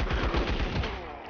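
Rapid bursts of AN Alpha rifle fire in the LifeAfter game, a dense run of sharp, close shots fired in quick succession, steady and loud throughout without pause.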